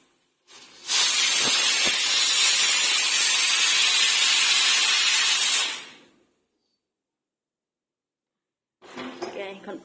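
A pressure cooker of peas lets out one long, loud, steady hissing whistle lasting about five seconds, then cuts off into silence before a faint kitchen clatter.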